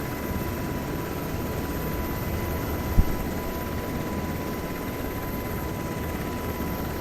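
UH-60M helicopter taxiing on the ground before a rolling takeoff, a steady close rotor and turbine drone with a constant whine and one brief thump partway through.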